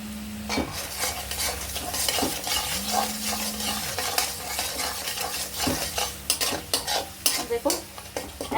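Tomatoes and chili powder sizzling in oil in a pan for a hilsa fish curry, stirred steadily with a spoon that scrapes and knocks against the pan while a steady frying hiss runs underneath.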